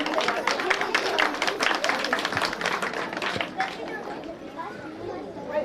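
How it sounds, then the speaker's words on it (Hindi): Clapping from an audience at a school annual prize distribution function, dense and sustained over crowd chatter, then thinning out toward the end while voices continue. "जोरदार तालियां"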